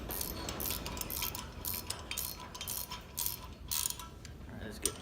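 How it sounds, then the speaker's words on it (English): Small ratchet wrench clicking in quick bursts while tightening bearing bolts on a John Deere 400 rotary unit, close and fairly quiet, metallic clicks over low mechanical background. "I've got a little ratchet wrench here as well"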